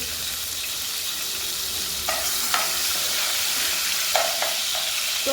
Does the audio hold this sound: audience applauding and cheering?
no